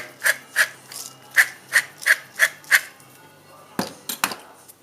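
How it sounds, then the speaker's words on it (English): A pepper mill grinds over a Cadiz-style soup in a string of about seven short, crisp rasping twists with a steady rhythm, close and clear, then a few quicker twists after a brief pause. "Grind a pepper."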